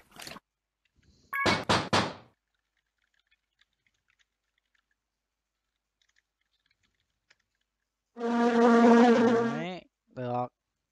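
Bees buzzing around a flower bouquet in the puzzle video game Clue Hunter: short electronic buzzing bursts at the start and a longer, louder tonal buzz near the end, separated by near silence.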